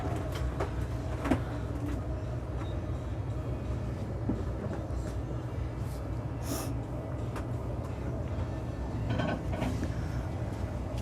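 A steady low mechanical hum and rumble drones on continuously as the slide-outs of a 2023 Newmar Super Star 4059 motorhome extend, with occasional faint clicks and knocks over the motor noise.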